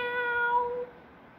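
A cat gives a single drawn-out meow, steady and tonal, and cuts off cleanly after about a second. It is fairly quiet and close, with no talking.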